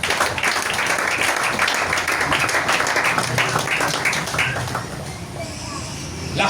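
A church congregation applauds during a January service, giving dense, steady clapping that fills the room at a loud level, thinning out toward the end, with voices mixed in.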